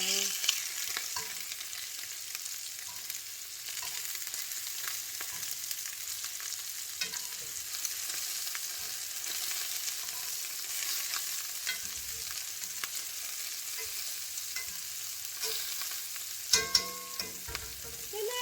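Turkey Romano meatballs fry in a pan with a steady, close sizzle that goes on throughout. Near the end, a few sharper clatters come as they are turned over.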